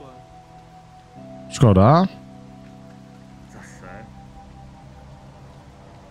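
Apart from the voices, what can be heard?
rain in video game HOBO: Tough Life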